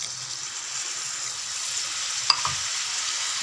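Egg masala frying in a pan gives a steady, even sizzle throughout, with a faint clink of utensil or pan near the end and no talking.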